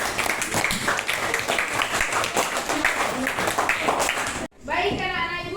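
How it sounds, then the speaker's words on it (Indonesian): Classroom of children clapping after a group presentation, a dense burst of applause that cuts off abruptly near the end before a teacher's voice follows. "Iya, beri tepuk tangan."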